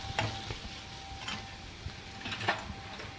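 Asafoetida is stirred into a pot of sambar with a spoon, giving faint scraping clinks and soft ticks over a low simmering hiss.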